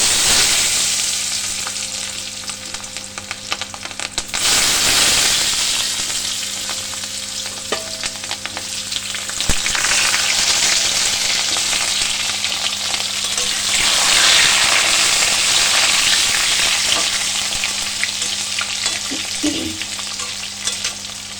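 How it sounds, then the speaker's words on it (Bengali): Potatoes fry in hot oil in a pan for a long stretch, a loud continuous crackling sizzle with occasional stirring knocks and swells in intensity, heard up close with no speech. "আলুটা এবার লাল লাল করে ভেজে নেব"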